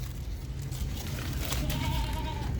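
A Desi female goat at a goat farm gives a single drawn-out bleat near the end, heard over a steady low background of farm noise.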